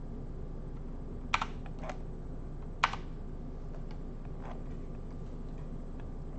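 A few sharp, loud clacks on a loud computer keyboard, two strokes standing out clearly against quiet background noise with fainter taps in between.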